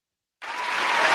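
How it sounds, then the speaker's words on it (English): An applause sound effect fired from a button, cutting in abruptly after a short silence as a burst of dense crowd clapping and cheering that swells slightly over about a second. "You gotta hit the applause button."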